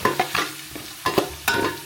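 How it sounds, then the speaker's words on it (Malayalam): Ginger, garlic and green chili are stirred in a hot pan, with several scraping strokes in an uneven rhythm over a soft sizzle, heard up close and with no talking. "ഇഞ്ചിയും വെളുത്തുള്ളിയും പച്ചമുളകൊക്കെ ഇട്ട് കൊടുക്കാം നന്നായിട്ട് ഇളക്കി കൊടുക്കാം"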